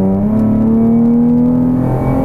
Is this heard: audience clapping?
no